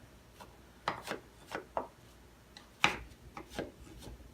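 Knife dicing vegetables on a cutting board for chunky keto scrambled eggs, a handful of separate close chopping strikes at an irregular pace, each a short crisp thud with a scraping edge, with no voices.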